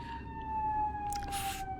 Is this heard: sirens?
yes